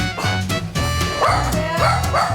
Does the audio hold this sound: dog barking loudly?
yes